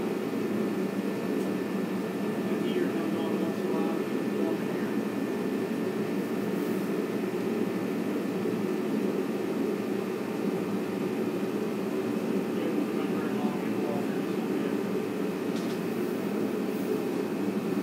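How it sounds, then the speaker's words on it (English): A space heater runs with a constant, airy whir and hum, steady and unchanging throughout, with no voices. "I apologize for that heater"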